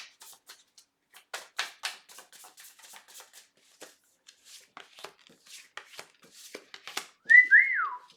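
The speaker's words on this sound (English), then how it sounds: "I just realized that whistle may sound a lot on camera" A short rising-then-falling whistle near the end, after scattered soft clicks and rustling handling noises.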